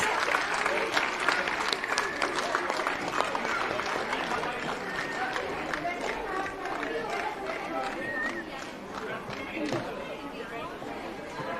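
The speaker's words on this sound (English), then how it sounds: "A big round of applause for House Vikings." Applause sweeps through a school annual day programme's audience for a house group on stage, a dense, sustained wash of clapping, loud and close, with crowd chatter mixed in throughout.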